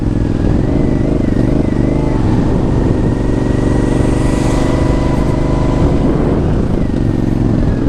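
An Aprilia Shiver 900 motorcycle engine idles ultra high after a fault and loss of power, a loud, steady, close burbling drone with clattery mechanical texture and slight wavering in pitch, no talking.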